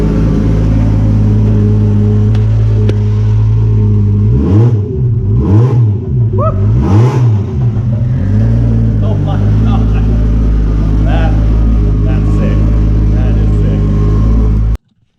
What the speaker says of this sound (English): So I can try and rev it up right now